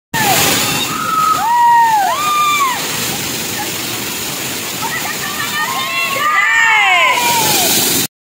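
A large main waterfall roars steadily close by, a broad continuous rush of water. Excited voices shout and whoop over it throughout.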